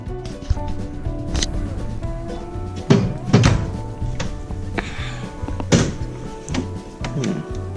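Small cabinet doors in a hotel junior suite open and close, giving several soft wooden thunks and clicks at close range with faint room noise and no speech.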